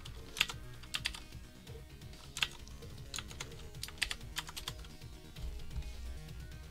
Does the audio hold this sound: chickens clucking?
no